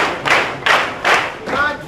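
Rhythmic clapping in a march-and-clap military salute chant learned in Sierra Leone: four loud, evenly spaced claps, each a broad burst, sounding close and alone without voices.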